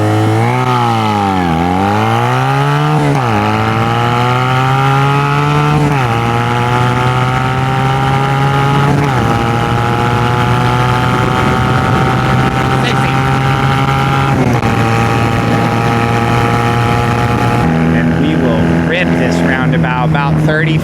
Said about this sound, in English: 0 to 60, 2005 Honda Rebel 250, the CMX 250.